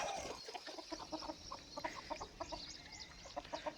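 Multicolored hens and a rooster clucking in a rhythmic, repeated series of short calls, fairly close, with farmyard background noise.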